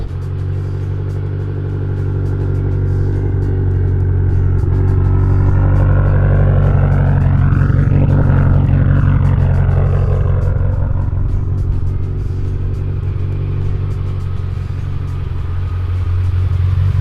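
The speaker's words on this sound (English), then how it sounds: "You can definitely tell that it's got quite a bit bigger of a fuel pump in there, and you can hear it whining like constantly now" Tuned car with a bigger fuel pump, a constant high whine over a deep steady engine rumble, with faint tones rising and falling in the middle as the engine note shifts, close and continuous.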